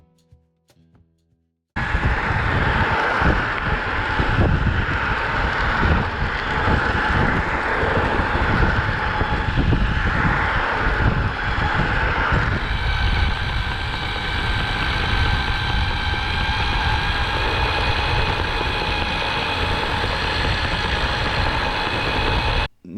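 Meepo Hurricane electric skateboard with gear drive while riding: a loud, steady motor whine with tonal harmonics over rumbling road and wind noise, rising in pitch partway through as speed builds, continuous for about twenty seconds.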